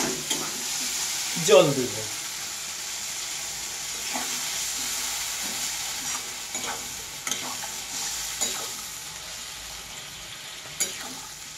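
Food stirring and sizzling in a pan while cooking a Bengali vegetable and chicken curry dish, with a few scraping stir strokes over a quiet frying hiss and a brief spoken line.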